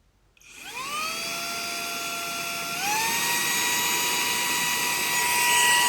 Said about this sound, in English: it does a fine job of sucking up all the debris here and the little cracks and crevices